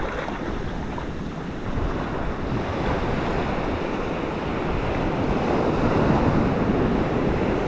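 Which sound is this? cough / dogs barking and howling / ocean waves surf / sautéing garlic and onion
ocean waves surf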